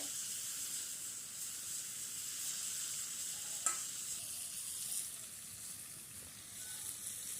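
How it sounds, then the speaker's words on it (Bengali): Steady, quiet sizzling of cauliflower frying in hot oil outdoors, with one brief clink partway through. "তেলের মধ্যে কিছুক্ষণ ভাজতে হবে।"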